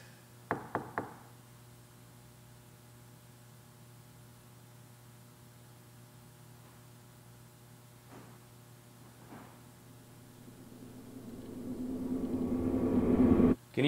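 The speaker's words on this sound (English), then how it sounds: "Can you make a knocking sound like this?" A quick series of three sharp knocks rings out close by over a steady electrical hum, followed by faint taps and a rising rumble of noise toward the end.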